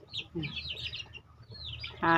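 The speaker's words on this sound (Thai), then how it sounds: "ไก่รุ่นนี้กำลังงามๆก็ปล่อยให้เขางามๆแบบนี้ไปเรื่อยๆนะคะเพื่อนๆ" Free-range Thai native chickens clucking and chattering nearby, a loose run of soft clucks and higher calls, ending with a louder, harsher burst, while someone speaks over them.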